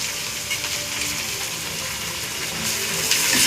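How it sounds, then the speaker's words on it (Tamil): Onion and carrot sautéing in a pan for kara paniyaram, a steady close sizzle filling the whole stretch with no talk, growing slightly brighter and louder toward the end. "கொஞ்சம் வெங்காயம் கேரட் எல்லாத்தையும் கொஞ்சம் வதக்கணும்"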